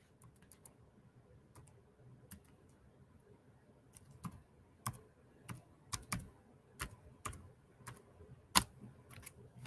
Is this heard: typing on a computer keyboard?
yes